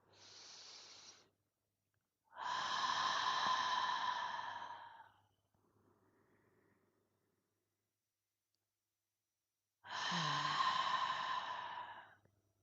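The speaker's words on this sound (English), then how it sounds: "Please take a 3 deep breaths with me to close this session." Deep, audible breaths closing a meditation session, each a long airy inhale or sigh close to the ear, separated by quiet pauses, with a faint softer exhale in between.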